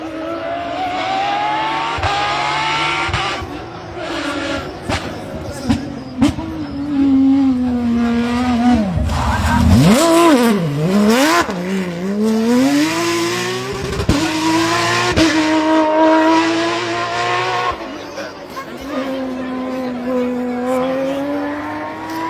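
A Porsche 991 rally car is racing on a stage at the Rallye de Dieppe Normandie. The engine roars loud and close, rising and falling through gear changes, and swoops hard as the car passes. An announcer talks over it throughout.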